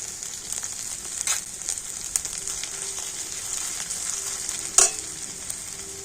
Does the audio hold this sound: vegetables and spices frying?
yes